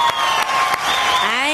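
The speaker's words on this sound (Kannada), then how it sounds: "ಬರಲಿ ಜೋರಾದ ಚಪ್ಪಾಳೆ" Studio audience at a televised Kannada dance competition applauding loudly, a dense, steady burst of clapping and cheering with music rising underneath.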